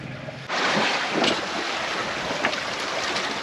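A sailboat under sail off the Cyclades, with steady wind rushing over the microphone and water washing along the hull, loud and continuous after a brief quieter start.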